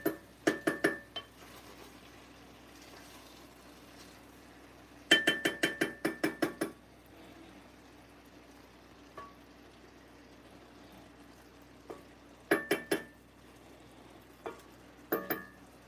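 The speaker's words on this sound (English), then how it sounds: "Just going to give it one more stir." Ackee and red herring stirred in a pot, bursts of rapid metallic clinks and scrapes of a spoon against the pot in several short clusters, separated by quiet pauses, close by and with no speech.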